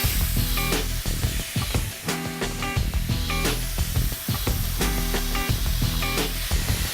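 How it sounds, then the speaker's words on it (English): Food with masala spices sizzles steadily in a hot pan, a loud constant hiss with occasional clinks and scraping, no voices. "keep cooking it and frying it until it's done"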